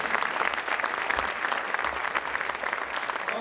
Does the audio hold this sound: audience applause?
yes